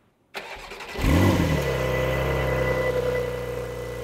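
A Porsche 911 Carrera S engine without sport exhaust cranks and catches, then settles into a steady, loud idle with a deep rumble, close by and with no talking.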